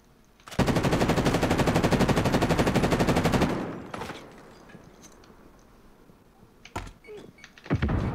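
A long rapid burst of automatic gunfire in a video game lasts about three seconds, then a few sharp single shots follow, with faint background noise and no talk.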